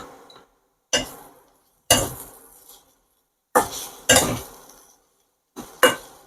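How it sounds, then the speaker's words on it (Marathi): Spiced kachori filling with garam masala and salt stirred in a pan over low flame, loud separate spoon clanks and scrapes against the metal pan, about five strokes with quiet gaps between, no talk. "नंतर यामध्ये एक चमचा गरम मसाला आणि चवीनुसार मीठ टाकून पुन्हा आपल्याला हे परतून घ्यायचं आहे"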